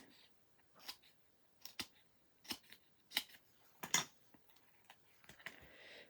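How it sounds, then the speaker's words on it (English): Scissors snipping paper for handmade card making, a handful of short crisp cuts spaced irregularly with brief pauses, close and fairly quiet, no talking. "Here are the scissors"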